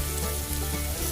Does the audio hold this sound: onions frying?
yes